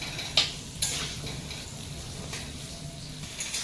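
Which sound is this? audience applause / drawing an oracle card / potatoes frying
potatoes frying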